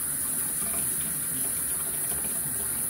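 Hot tap water pours steadily in a continuous even gush, filling a vessel at close range during home brewing.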